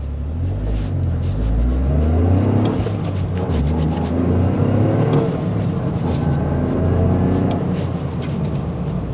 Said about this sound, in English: And here's the performance of the GR Corolla.